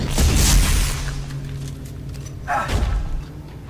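A gunshot blast from the Dead Space 3 video game, played in co-op on Impossible difficulty: a loud, booming report at the start that trails off, followed by a second, fainter burst of noise.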